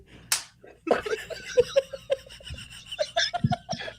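A few people clapping and slapping their hands at a basketball setting, a cluster of sharp claps near the start followed by scattered, uneven hand claps close by, with some laughter and murmuring between them.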